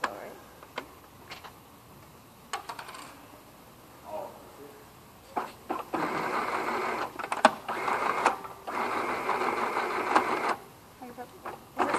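A sewing machine stitches jute, its needle bending, running in bursts of rapid mechanical whirring and ticking separated by short pauses, close and steady, with quiet clicks before it starts.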